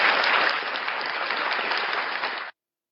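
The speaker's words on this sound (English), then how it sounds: "give a virtual applause and a heart to Mr. Jorge Hernandez" Applause welcoming a speaker to a WRO robot game national opening ceremony, a steady wash of clapping that sounds bandlimited, as if from a recording, running about two and a half seconds before stopping dead.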